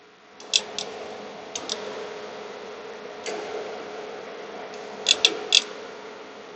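An XFX RX 580 graphics card fan, spun by hand during a fan replacement, has a blade repeatedly striking a screw head, giving sharp faint ticks in small clusters over a steady low hum.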